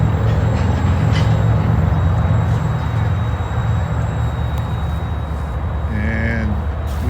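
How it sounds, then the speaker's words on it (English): A long freight train slowly begins to roll after a lengthy stop, a steady loud rumble of wagons and low engine drone continuing throughout, with a brief squeal near the end. "our long train has started moving"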